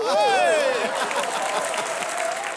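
Studio audience applause on a comedy show, a loud continuous wash of clapping with a sustained musical tone sliding over it at the start.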